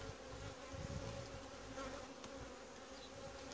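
A honeybee swarm in a Langstroth hive gives a dense, continuous buzzing drone at close range. It stays faint and steady throughout, with no voices.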